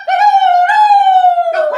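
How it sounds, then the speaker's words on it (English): A police siren wails in a single long, steady tone that slides slightly downward, loud and close, with a short break at the end. "A siren! The police must be coming."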